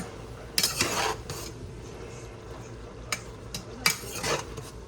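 A spoon scrapes and clinks in a pot while pickled jalapeno peppers are stirred in, giving a few brief metallic bursts over a low kitchen hum, close but fairly quiet, with no talking.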